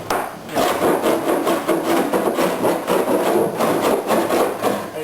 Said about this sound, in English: I just got this big bastard wood rasp, and I come along and just gently